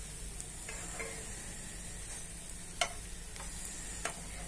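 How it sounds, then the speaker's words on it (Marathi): Bread slices frying in ghee for shahi tukda, a faint, thin hiss of sizzling fat with a few soft ticks and taps from a spatula. "हे आणि तुपावरच फ्राय करायचे"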